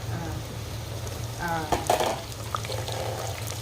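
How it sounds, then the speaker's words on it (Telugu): Ginger garlic paste and green chillies fry in oil for a goat head meat curry, giving a steady close sizzle with a brief faint voice in the background. "అల్లం వెల్లుల్లి పేస్ట్ కూడా ఇప్పుడు వేస్తే వేగిద్దిగా."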